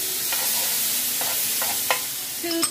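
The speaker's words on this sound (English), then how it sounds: "So I'm gonna add the garlic to the butter." Minced garlic sizzling in melted butter in a pan, a steady hiss of frying with a few sharp clinks and scrapes of stirring, close and without talk.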